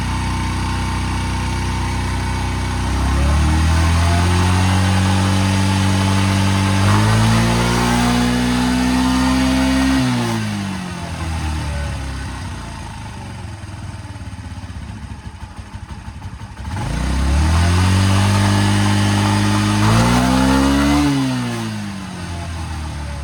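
Engine of a 1985 Honda Elite CH150 scooter, not yet fully warm, runs loud and close, revving up in two strong rising sweeps that fall back to a rough idle between them.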